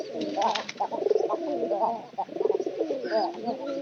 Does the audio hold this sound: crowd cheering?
no